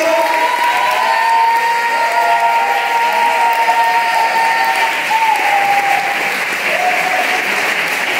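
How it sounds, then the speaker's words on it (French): A large audience at the final of a French public-speaking contest applauds loudly and steadily throughout, with a few faint cheers and whistles rising over the dense clapping. "vous pouvez aussi applaudir très fort le citoyen Rémi Salor"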